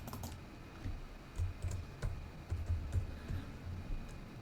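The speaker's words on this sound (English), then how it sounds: "But this time, I'm going to play the typing sound." Typing sound effect played inside a Roblox game: a soft, steady run of light key clicks in uneven rhythm, faint and close, with no voices.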